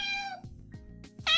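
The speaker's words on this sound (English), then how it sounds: "Oh, kitty!" A pet cat named Borscht meows clearly and close by, a drawn-out cry at the start and another sharp meow at the end, with soft thumps between.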